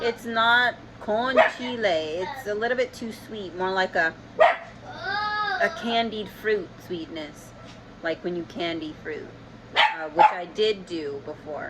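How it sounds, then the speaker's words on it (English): A puppy barks and yips in short sharp bursts in the background while a person talks steadily over it indoors, the barks scattered through the stretch and partly masked by the speech. "Excuse the dog barking."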